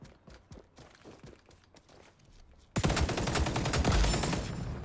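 Gunfire in the shooter video game XDefiant: softer footsteps and scattered shots give way to a loud, sustained burst of rapid automatic fire, close and punchy.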